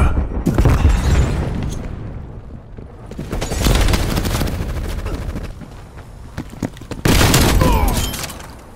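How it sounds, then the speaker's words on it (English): A flashbang grenade goes off in Call of Duty: Black Ops Cold War amid loud, repeated bursts of gunfire and booms, coming in several heavy waves that roll on through the whole stretch. "Using flashbang."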